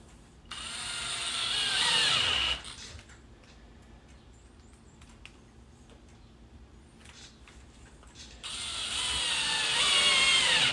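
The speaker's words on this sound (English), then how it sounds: "I'm going to take 2 of the wood screws that come in the package, and I will just put those in" A cordless driver whirs twice in two close, loud bursts, driving wood screws while a keypad deadbolt is installed, with quiet handling clicks during the pause between them.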